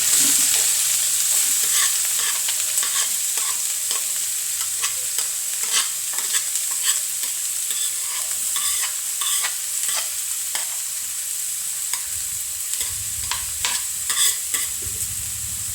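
Onion, green chili, curry leaves, coconut, turmeric and garlic being stirred in frying oil for a lunch dish, with a steady close sizzle and repeated spoon scrapes running throughout, no voices.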